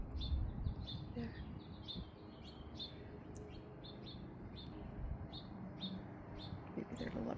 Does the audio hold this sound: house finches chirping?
yes